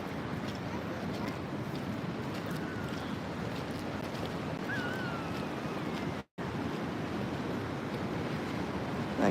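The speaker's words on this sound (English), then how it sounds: "Nice waves coming through." Ocean waves break along a rocky surf beach with a lifeguard tower nearby, a constant washing roar with wind buffeting the microphone and faint, indistinct speech in the background.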